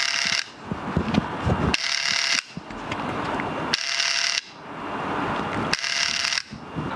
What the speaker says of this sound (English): So we unscrew all them and that should let us take this off.